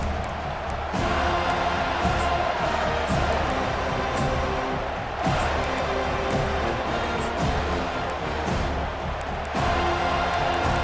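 A large college football stadium crowd, with the Seminoles on the field, keeps up a loud, steady roar of cheering, swelling in several pulses, under the faint voice of a commentator.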